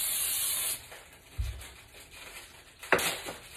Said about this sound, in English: And now I'm just lightly spraying the pan.